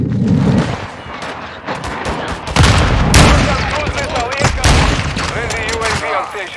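Heavy gunfire rings out in a Call of Duty: Modern Warfare II multiplayer match, loud bursts and rapid shots overlapping, with short explosive thumps and in-game voice callouts.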